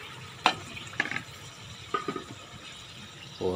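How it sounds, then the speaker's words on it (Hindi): Potatoes drop into a pan of hot oil for raw mango biryani, hissing and sizzling quietly with a few scrapes and clinks of a spoon stirring. "अब इसमें आलू डाल देंगे"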